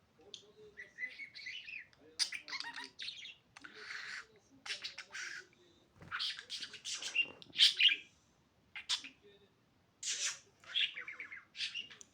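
A pet budgerigar named Can chirps and twitters close by in a home, bursts of bright warbling and sharp squeaks separated by short pauses, fairly quiet overall.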